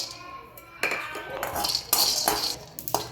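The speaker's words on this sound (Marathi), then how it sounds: "कढाईमध्ये सगळ्यात आधी आपल्याला शेंगदाणे भाजून घ्यायचे आहे" Peanuts roasting in a kadhai: dry rattling and metallic clinks of nuts and a spoon against the wok in irregular bursts, with a voice speaking over them.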